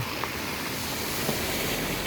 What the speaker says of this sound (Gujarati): 21 તારીખ છે, વરસાદ ચાલુ છે